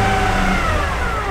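A Honda CRX drives with a steady mechanical whine from a worn transmission bearing riding over the engine's hum, constant and fairly loud throughout.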